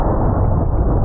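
A punt gun fires at bulletproof glass, a single heavy, booming blast that fills the whole moment, loud and close with a dull, muffled low-end roar.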